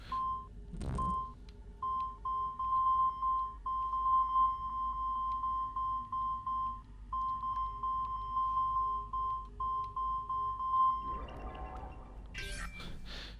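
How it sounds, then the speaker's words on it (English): A Nintendo DS video game gives a long run of steady, evenly pulsed electronic beeps at one pitch over a low hum. Near the end come a short burst of brighter tones and a noisy flurry. "I hear you beeping at me, but I don't quite know why you're beeping at me."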